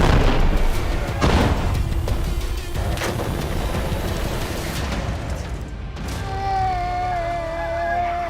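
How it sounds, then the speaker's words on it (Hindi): A heavy 2000 kg bomb goes off in Israel-Hamas war footage, with several loud, rolling booms and crackling blasts in the first seconds, then a lingering rumble under a wavering high tone. "2000 किलो का बम धमाका, भाप बना हमास।"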